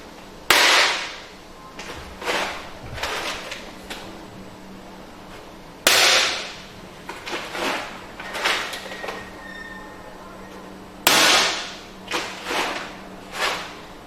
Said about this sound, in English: Here we are going to perform drop tests, 1 kilograms to check the bag strength.